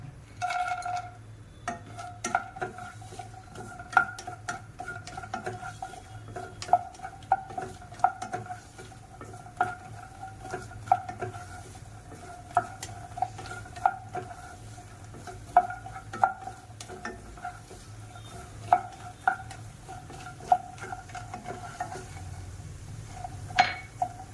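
Makhana (fox nuts) roasting in ghee in a pan, a soft steady sizzle under repeated stirring clicks and light clinks of a spoon against metal, close and even throughout.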